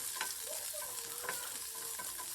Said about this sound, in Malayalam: നമ്മൾ പൊളിച്ച് വെച്ചിരിക്കുന്ന കൊച്ചുള്ളി ഇതിലേക്ക് ചേർത്ത് കൊടുക്കണം.